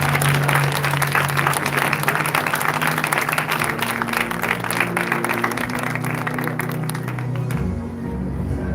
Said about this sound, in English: please give once again a round of applause for our global nominees